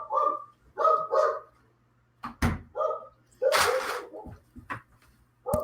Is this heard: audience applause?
no